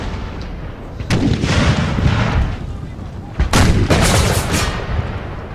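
Artillery and Gatling gun fire from an American Civil War battle game, loud bursts of cannon booms and rapid gunfire layered in dense waves, with sharp heavy volleys standing out near the middle and end.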